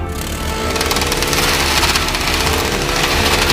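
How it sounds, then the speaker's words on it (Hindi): A homemade lawn mower runs continuously, a loud, harsh motorized whir with rapid rattling pulses, close and steady throughout with no talk. "घर का बना लॉन मोवर तैयार है।"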